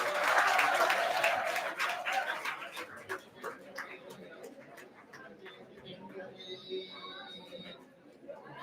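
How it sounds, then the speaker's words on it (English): Conference audience clapping at an international academic event, strongest at the start and then thinning into scattered claps. Chatter and voices continue as it fades, with some bird-like or high tonal sounds underneath. "clap, please"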